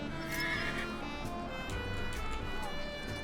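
A horse neighs in the Legends of the Round Table video game, a short whinny over dense game noise and music, with hoof clops and a voice talking.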